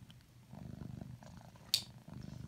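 A cat purrs softly and close by in rhythmic low pulses, pausing briefly before resuming, with one faint sharp click in between.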